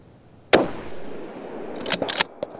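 Sharp shots from a Falkor Defense 7even short-action 6mm rifle, one loud crack followed by a decaying tail, then a quick cluster of three fainter reports and a last small pop, with no talk.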